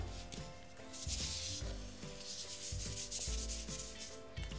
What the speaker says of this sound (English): I'm just going to take a cake smoother and just start smoothing all that down